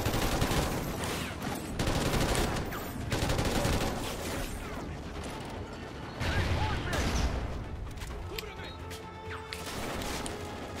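Dense, sustained gunfire and crashing impacts in the Call of Duty: Ghosts Federation Day mission, with overlapping bursts and blasts filling the scene throughout and a voice talking underneath.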